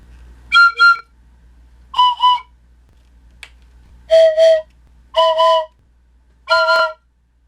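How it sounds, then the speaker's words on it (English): A homemade train whistle built from three PVC pipe whistles blows five short chords, some in doubled bursts, loud and close with quiet gaps between. "This design consists of 3 individual whistles combined to make the familiar train whistle sound."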